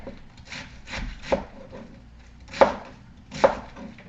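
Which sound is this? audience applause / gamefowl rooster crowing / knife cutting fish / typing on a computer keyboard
knife cutting fish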